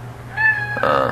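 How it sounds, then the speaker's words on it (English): A pet cat meows twice at close range, a short rising meow followed quickly by a louder, harsher second one over a steady low hum. "That's my cat meowing at me."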